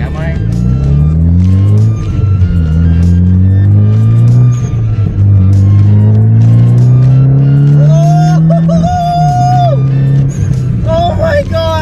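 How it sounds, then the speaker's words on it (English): Mitsubishi Evo X driving with a loud, droning engine rumble filling the cabin, rising steadily as it accelerates, with a person talking over the noise throughout. "I forgot how loud it is in here and how much this car sucks to vlog in."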